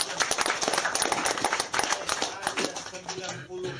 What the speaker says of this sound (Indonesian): Tepuk tangan untuk Bu